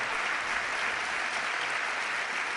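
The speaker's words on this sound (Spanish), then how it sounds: "para el cual pido un aplauso" A television studio audience applauds a guest being welcomed, sustained even clapping at a constant level from start to finish, with no talk over it.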